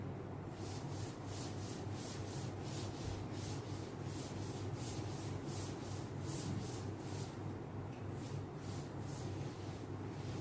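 An eraser or duster rubs back and forth across a classroom board in quick, regular strokes, a close continuous scrubbing rhythm with no talking.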